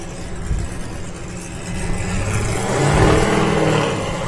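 An off-road race vehicle at the San Felipe 250 desert race idles nearby with a loud, rough exhaust rumble. The low engine drone swells slightly midway as the throttle blips, with outdoor race-staging noise around it.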